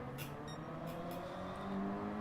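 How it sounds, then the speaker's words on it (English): A race car engine in the Gran Turismo video game revs steadily at the start line, a sustained buzzing drone that swells slightly toward the end, with no talking. "Just trying to get the right amount of revs."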